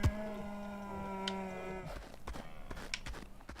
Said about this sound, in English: Somebody shut that cow up.